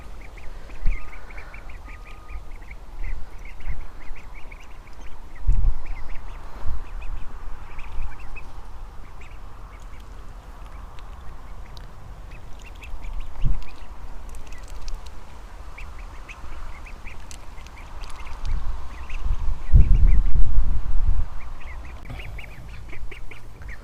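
Ducklings quack and peep in a garden run, a steady chorus of soft, high calls at close range with a few louder bursts and occasional bumps nearby.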